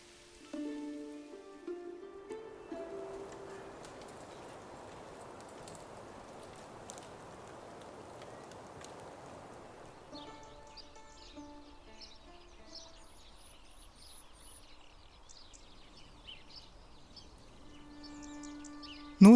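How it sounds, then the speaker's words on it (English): Rain patters softly and steadily in the medieval city-building game Manor Lords, mixed with faint birdsong, scattered chirps and tonal game-interface chimes over a quiet background. "the first rain of the season"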